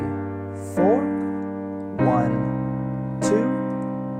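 Piano playing the chord accompaniment to a song: three sustained chords struck about a second apart, each ringing out and fading before the next, played alone without voice.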